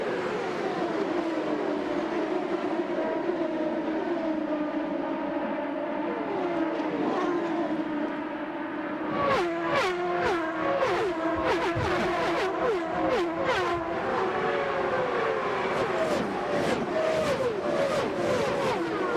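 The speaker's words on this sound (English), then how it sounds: "these cars do what they were meant to do here at the California Speedway. Up to 230 plus miles an hour as we go green" IndyCar race cars from 1997 scream around the California Speedway tri-oval at over 230 mph. A continuous high-pitched engine roar rises and falls as cars pass, growing louder and more layered in the second half as several sweep by in quick succession.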